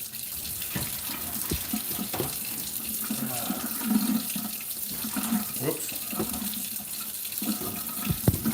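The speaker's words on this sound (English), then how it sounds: "Wait for my water to get warm here. Wash out the sink a little bit." Water runs steadily from a kitchen sink tap while it warms up, a continuous splashing rush with small clinks and knocks of handling. A person speaks briefly in between.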